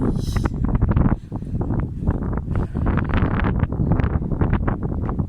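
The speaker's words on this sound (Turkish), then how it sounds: "Tüneli geçtikten sonra bayağı rüzgar varmış yani." Steady, blustery wind near cliffs in Antalya buffeting the microphone, a constant low rumble with gusts, occasional faint voices beneath it.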